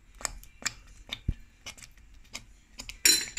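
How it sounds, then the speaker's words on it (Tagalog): A spoon stirs butter and margarine into sweet potato halaya, producing sparse, sharp clinks and scrapes against the pan at an irregular rhythm, close by, with a louder scraping burst at the end. "Haluin natin, mga kalangga ko dyan. Yan, halo-haloin ang butter, ang star margarine natin."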